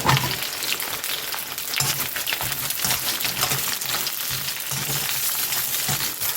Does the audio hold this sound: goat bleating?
no